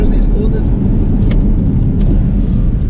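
A Porsche Cayman 981 with the 2.7 engine pulling hard past 4,500 RPM, a loud continuous engine roar with wind and road noise.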